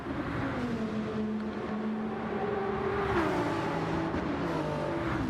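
A Nismo race car in Gran Turismo 7 accelerates down toward Eau Rouge. The engine drones steadily and close, its pitch climbing and shifting as it revs through the gears, with no talking.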